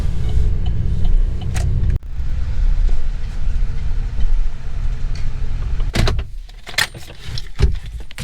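Road traffic passing on a busy Thursday night near a Walmart parking lot, a loud steady roar of vehicles with a sharp dip and several brief clatters and bumps toward the end.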